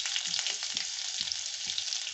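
Onion fries in hot oil with popped mustard seeds for a bitter melon tamarind gravy, a steady close hissing sizzle with soft regular stirring scrapes.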